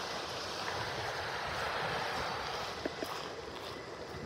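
Gentle surf washes steadily onto a semi-unspoiled stretch of beach along Pelican Bay in North Naples, Florida, a continuous broadband wash with light wind and two brief soft knocks near the end, no voices.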